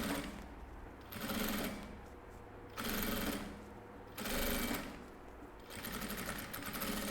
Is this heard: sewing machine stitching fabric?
yes